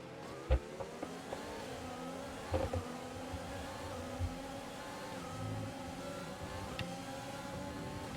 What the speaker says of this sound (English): Gonna try and get Norris on the inside here.